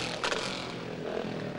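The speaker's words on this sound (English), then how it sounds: "OK, listening for that motorbike." A motorbike passes close by at the New Forest show, a brief scraping, revving whoosh that swells and fades within a second or two.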